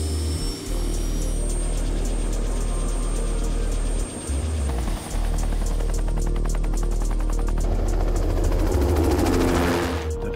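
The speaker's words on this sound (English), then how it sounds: "the helicopter flying high above them" A helicopter drones steadily overhead with a pulsing rotor chop and low engine hum, growing louder and nearer toward the end.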